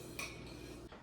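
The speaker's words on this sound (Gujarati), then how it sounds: "હું વાસણ ઘસી દઉં." Dishes and steel utensils being scrubbed clean at home give two quick, light metallic clinks against a quiet background, with no voices.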